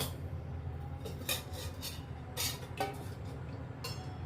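A cooking pot is set down on a home kitchen stove while preparing fish curry, giving a few light metallic clinks and knocks over a low, steady background hum.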